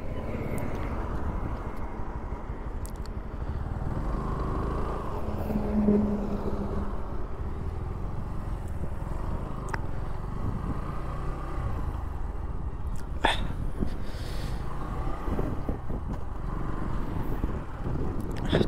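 A motorcycle rides along a highway toward Kolkata, heard as continuous rushing wind and road roar with a steady engine drone and occasional passing vehicles.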